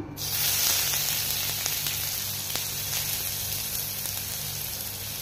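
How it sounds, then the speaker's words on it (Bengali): Dried chillies, onion and garlic for a spinach pakoda filling fry in hot oil, giving a loud, steady sizzle close up with a few faint stirring ticks. "লঙ্কাটা একটু বেশি ভেজে নিয়েছি"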